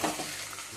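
Marinated chicken being stirred with a ladle in a pan for a spicy Telangana-style chicken curry, giving a soft sizzle and scraping stir that stays faint and steady throughout the short stretch.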